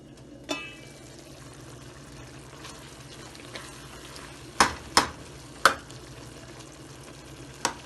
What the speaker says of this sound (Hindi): देखिए ये फुल आंच पे पक रही है।